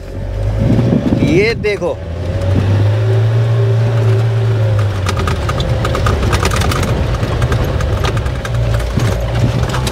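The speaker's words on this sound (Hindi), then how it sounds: "अभी ये गाड़ी चल रही है फर्स्ट गियर में" A Mahindra Thar crawling through desert sand in first gear, its engine a steady mid-pitched drone close by, with someone talking over it throughout.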